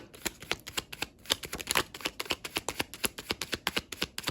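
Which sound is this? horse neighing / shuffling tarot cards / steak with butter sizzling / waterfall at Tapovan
shuffling tarot cards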